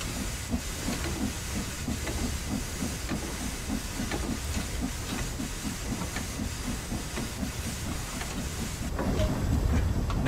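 A steam locomotive in Train Sim World 2, Spirit of Steam, starts to pull away, with a steady loud hiss of steam over a regular run of soft, rhythmic chuffs that swell slightly at the end.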